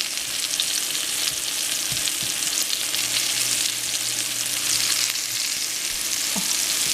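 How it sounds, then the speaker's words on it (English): Beef patties for Salisbury steak brown in a hot pan with a constant, even sizzle and crackle heard close up and alone, with no speech. "I'm going to let it brown up a little bit before I put it into the, there we go, before I flip them."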